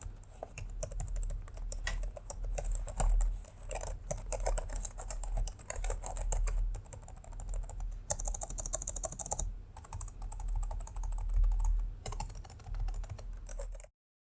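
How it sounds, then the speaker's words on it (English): Rapid, steady keystrokes on the Metabox Alpha X NH58RC gaming laptop keyboard, close and crisp with short pauses between bursts, heard alone without speech. "Here is a typing test."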